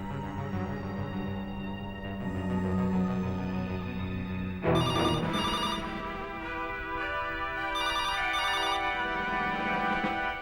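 A telephone rings over a dramatic music score in a tense crime-drama scene, with repeated bright bell-like bursts cutting in partway through; no voices.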